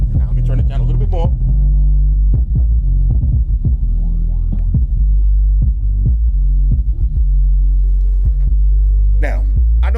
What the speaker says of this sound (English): Now feel this bass real quick.